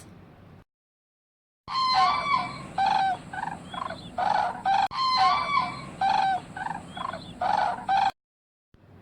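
A sarus crane gives loud, close, brassy trumpeting calls in two long overlapping bursts of repeated notes, separated by short silences.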